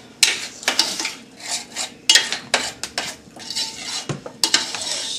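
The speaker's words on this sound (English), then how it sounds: "Stir it up." Sausage gravy stirred in a pan, with uneven scraping and clinking of a utensil against the metal in irregular strokes over a faint bubbling background.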